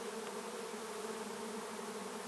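A swarm of hundreds of bees hums all around, a dense continuous buzzing drone, faint and even with no voices.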